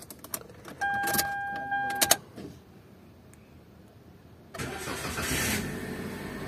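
A 2018 Toyota Avanza with an immobilizer fault cranks for about a second with a whirring starter and warning chimes, falls quiet, then fires and settles into a steady, close engine run.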